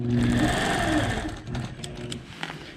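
A sewing machine running long basting stitches for a sea lace border, a loud close whirring burst that fades after about a second and a half into a few lighter clicks.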